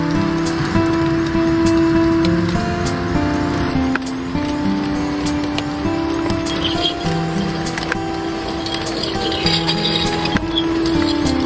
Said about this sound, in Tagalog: ay unti-unti naman ditong bumubuhos ang ulan